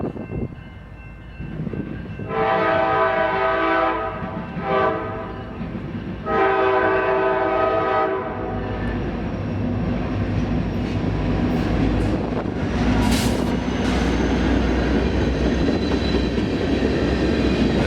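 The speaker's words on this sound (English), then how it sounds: "Here comes a train. They still use these tracks." A long train rumbles past on tracks near Jackson, Michigan, with a loud horn blasting several times early on, then a steady heavy roar and rattle of cars.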